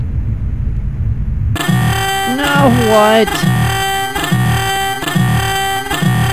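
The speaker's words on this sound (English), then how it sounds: "why the warning buzzers?" A loud, harsh pulsing spaceship computer warning buzzer sounds repeatedly in a steady rhythm after a sudden start, with a voice speaking over it.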